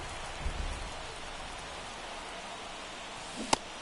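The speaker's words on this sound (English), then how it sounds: "This rain is not letting up." Steady rain hisses over a baseball game in a video game, a soft constant wash of noise broken by a few faint low bumps early and a single sharp click near the end.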